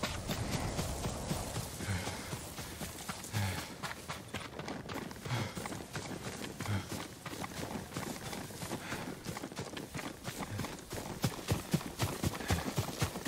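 A horse's hooves clip-clop steadily in Ghost of Tsushima, a continuous rhythmic trot under wind and ambient game sound, moderately loud with no talk.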